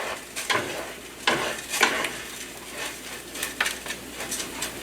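Rice in a pan is given a quick stir, producing soft scraping strokes over a gentle background sizzle, with a few louder utensil swipes spread across the moment.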